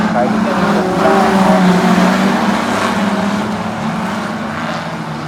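Street stock race cars roar around the oval at Mid-Western Speedway in Darlington during a heat race, several engines blending into one loud, sustained drone as the pack runs nearly three wide, with a commentator talking over it.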